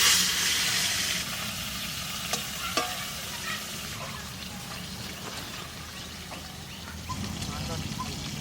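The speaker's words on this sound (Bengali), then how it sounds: "মাছটা বেশি ভাজলাম না।" Pond fish fry in oil in a kadai with a steady, close crackling sizzle, broken by a few sharp clicks of stirring.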